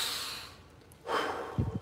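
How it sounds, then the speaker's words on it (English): Breathing through the nose during bo staff training, a soft hiss of air fading out, then a stronger inhale rising mid-clip and ending in a short nasal snort-like burst, close and with no talking. "breathe through the nose"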